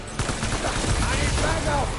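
Rapid gunfire during a Death Stranding boss battle, a dense crackling burst of shots running throughout, loud and close, with voices faintly mixed in.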